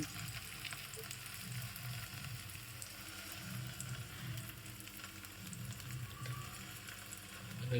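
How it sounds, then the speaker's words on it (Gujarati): A pearl-millet thepla fries in a little oil on a griddle over medium heat, making a soft, steady sizzle with faint crackles and no talk. "થેપલું તેના પર મૂકી દેવાનું રહેશે અને તેની આજુબાજુ પણ સાધારણ થોડું તેલ રેડવામાં આવશે"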